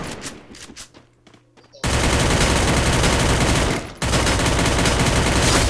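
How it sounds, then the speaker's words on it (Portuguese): Sustained rapid gunfire from the Free Fire mobile video game, loud continuous automatic bursts that start abruptly after a quieter lead-in, break briefly and then resume. "estão atirando na gente aqui"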